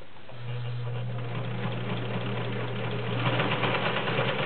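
A vintage 1980s Kenmore 1781 convertible sewing machine stitches through three layers of garment leather, with a steady close motor hum and a rapid needle rhythm that grows louder toward the end.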